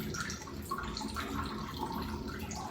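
Water rushing from a bathroom tap just after its valve is opened, a steady, soft splashing flow that runs unbroken throughout.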